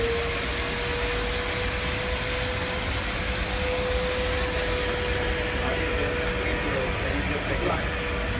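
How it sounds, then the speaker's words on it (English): Constant loud whooshing roar of a Klenco Monsoon ST 12 steam vacuum cleaner running steadily throughout, with a faint tonal hum underneath and no pauses. "And now I steam and vacuum."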